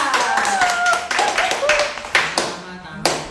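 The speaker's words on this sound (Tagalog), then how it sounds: "Palakpak!" Several sharp hand claps ring out in an uneven burst, loud and close, with voices talking over them.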